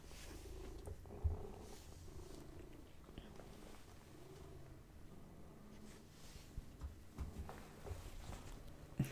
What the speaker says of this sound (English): So you can probably hear him, the purrs.